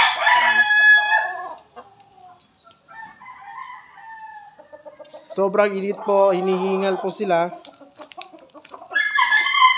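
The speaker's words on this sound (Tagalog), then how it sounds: "pakita natin yung manok na inubo" Chickens on a hot Philippine farm, one with a cough, crow and cluck loudly and close by, with harmonic calls rising and falling over about ten seconds while a person speaks between and over them.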